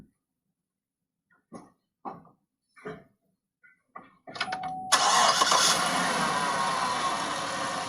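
Car with an automatic transmission starting up after a few soft clicks, the starter cranking briefly before the engine catches and settles into a steady, close idle.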